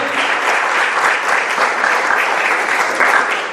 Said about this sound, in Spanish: Un aplauso al Rey de Gloria esta mañana.